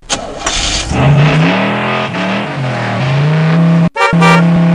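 A cartoon car in the Reader Rabbit Math children's game starts up with a short burst, then drives with a steady, loud engine hum that rises and dips in pitch, briefly cutting out near the end before resuming.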